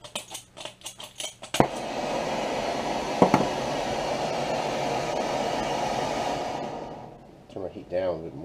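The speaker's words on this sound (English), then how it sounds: "I don't know if you can barely hear some of the acetylene coming out" Acetylene gas hisses from a torch turned down low for barrel patching, a steady broadband rush that holds for about five seconds after a few soft knocks and then fades. Breathy sounds follow at the end.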